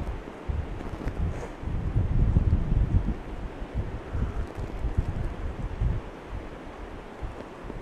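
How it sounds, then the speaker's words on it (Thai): Strong wind buffets the microphone during a stormy boat outing on the Mekong River, with a continuous low rumbling roar that surges and eases, no voices. "ลมแรงนะฮะ"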